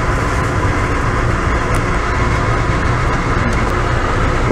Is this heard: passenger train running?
yes